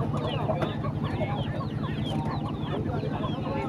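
Village chickens (ayam kampung) clucking amid a busy rural market in Bandongan, Magelang, with birds sounding close and continuous under a steady hum of crowd noise and nearby voices.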